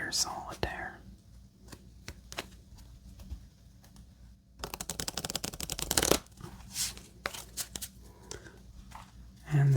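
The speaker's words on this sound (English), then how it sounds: "And this will be our last shuffle," Playing cards being riffle-shuffled up close for two-deck Forty Thieves solitaire, a rapid flurry of crisp clicks and a soft bridge, with scattered taps and faint whispering around it.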